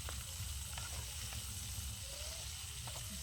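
Onion sizzling in oil that is not yet fully hot, in a hot kadai at an outdoor group camping site, a quiet soft hiss with faint crackles throughout.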